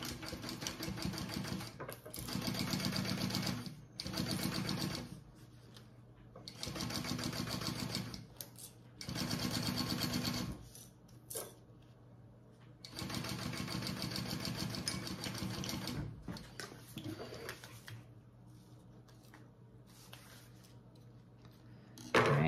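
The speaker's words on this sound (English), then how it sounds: "I'm gonna do that full seam allowance now." A sewing machine runs in several steady bursts with short pauses between them, stitching the full seam allowance on a fabric waist pack, close and moderately quiet.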